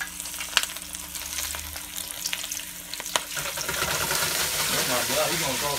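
Fish frying in hot oil on a stove, a steady loud sizzle that swells into a busier crackling spatter over the last couple of seconds, with a few sharp pops and speech underneath.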